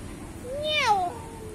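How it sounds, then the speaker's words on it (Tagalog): A house cat meows once, a short rising-then-falling cry close to the microphone, heard alone against a quiet room. "suplado naming pusa"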